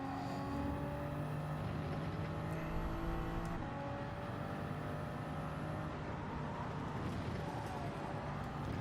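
A race car engine in Gran Turismo 7, a Toyota Supra, drones steadily with shifting pitch and a continuous loud whine throughout, without pauses or breaks.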